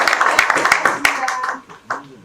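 A brief burst of hand clapping from a group at a neighborhood residents' general assembly in South Korea, quick irregular claps that thin out after a second or so, with voices over it.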